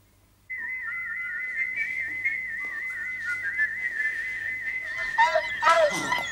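A shrill, steady whistle blows continuously for about six seconds, loud and close, with a brief burst of other noise near the end.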